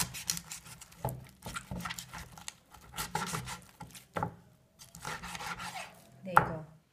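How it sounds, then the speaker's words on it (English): A knife works through a chicken joint on a board with repeated soft cuts and scrapes, a few sharper knocks, close and quiet, with no talking. "Feel the gap in between the joints and cut it through."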